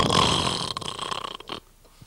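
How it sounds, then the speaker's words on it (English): A man snores while asleep, one long, loud, rasping snore that fades into a few shorter snorts before the sound falls quiet, heard close up. "Let's see if he'll snore for us."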